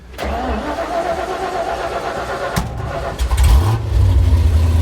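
A 460 engine in a highboy pickup truck cranks with a close, loud whir, then catches and settles into a rough low idle that briefly revs, with no talking over it.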